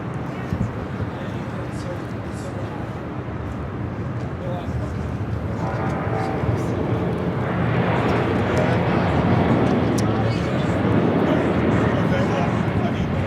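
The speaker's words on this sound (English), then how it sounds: "is American Airlines, flight 136, taking off to London Heathrow." An American Airlines airliner taking off at LAX, its jet engine roar a steady broadband rumble that swells louder partway through and holds, with no voices heard.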